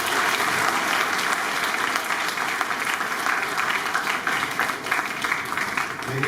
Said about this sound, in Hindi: इसके लिए एक जोरदार तालियों से उनका